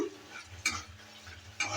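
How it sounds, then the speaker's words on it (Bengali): Fried onions are stirred in a pan with light scraping, and two sharp metallic clinks come about a second apart over a soft background sizzle. "আবারও নেড়ে চেড়ে নিচ্ছে আর পেঁয়াজটা আমার ভাজা হয়ে গেছে"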